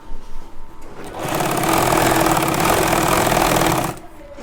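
A sewing machine stitches a pocket onto pajamas, starting after a second of faint handling and running fast and steady for about three seconds before stopping, close and alone.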